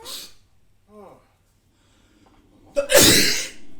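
A single sharp sneeze bursts out near the end, preceded by a short intake of breath and a brief vocal sound earlier; otherwise fairly quiet.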